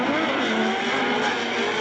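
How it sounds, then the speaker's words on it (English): Nissan Z drift car at a speedway drift competition, engine roaring steadily at high revs with tire noise throughout, a loud continuous blast with a brief rev spike typical of a clutch kick. "Hear that Z just clutch kick."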